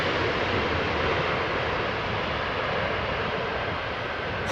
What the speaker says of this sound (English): So this was Cargolux arriving from Nairobi, 747-400.